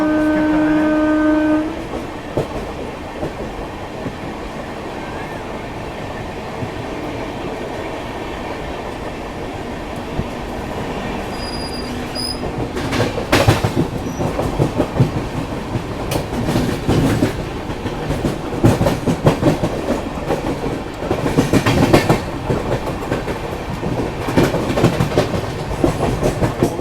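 The 12566 Tufani Bihar Sampark Kranti express rolls toward Kanpur Central past Govindpuri junction, heard from on board: a brief horn blast at the start, then a steady rumble and clickety-clack of wheels over rail joints.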